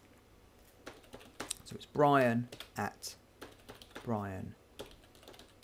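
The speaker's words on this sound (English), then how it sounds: "So I'll type my email address in here so you can see it." An email address is typed on a computer keyboard, and a few light key taps are heard under a man's close speech.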